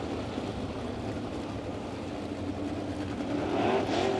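360 sprint cars roar around a racetrack at a Friday night event as a steady, dense engine drone. Near the end a rising whine emerges and the roar grows slightly louder.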